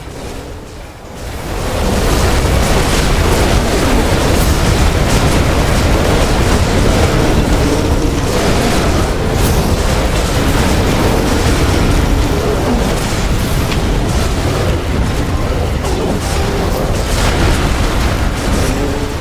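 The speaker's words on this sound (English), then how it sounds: "The building has been destroyed." A building explodes in The Riftbreaker, setting off a loud, sustained roar of blasts and rumbling debris that swells after a brief quiet start and stays dense and booming throughout, with no voices over it.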